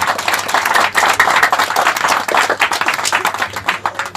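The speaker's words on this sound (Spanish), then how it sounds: "Dale un fuerte aplauso al Dios Todopoderoso." Church congregation clapping and applauding during a live Quechua-language fasting service, a dense, loud burst of many hands that rises and ebbs across the whole stretch.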